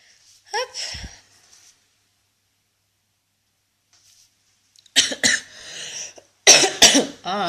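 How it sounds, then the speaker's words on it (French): Someone coughing during a makeup session: one short cough early, then a pause, followed by two bursts of harsh, repeated coughs close to the microphone. "Ah là, je tousse, c'est une catastrophe."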